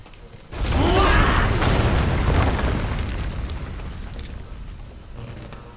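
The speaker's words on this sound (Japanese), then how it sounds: "爆発止まらねえな。" A loud, sustained rumbling explosion from Final Fantasy VII Remake erupts after a brief quiet start, with a crackling burst up front that slowly fades into a lingering low roar.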